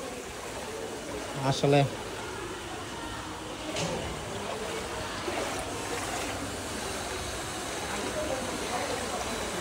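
Surma river floodwater in Sylhet rushes with a steady, moderately loud broadband roar across the whole stretch, with a brief word or two of speech early on.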